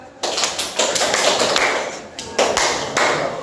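Children clap out a rhythmic four-clap pattern in a classroom, producing sharp, close, loud claps in quick groups with brief pauses between them, with no talk over them.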